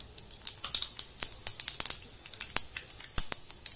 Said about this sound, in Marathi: हे बघा आपलं तेल तापलेलं आहेच. त्याच्यामध्ये मोहरी घालायची, जिरं घालायचं